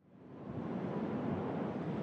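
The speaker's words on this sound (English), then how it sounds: "It sounds very, very windy here." Steady, roaring wind gusts through an area of the video game Sword Art Online: Fatal Bullet, swelling in over the first half second and then holding as a loud, continuous stormy rush with no voices.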